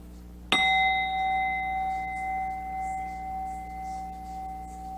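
A single chime struck during a tarot reading, one bright metallic strike that rings on with a long, steady sustaining tone fading slowly over several seconds, heard alone.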